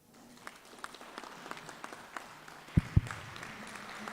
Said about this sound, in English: let's stand up and clap, clap, clap. Let's clap for the important remarks from our chairperson.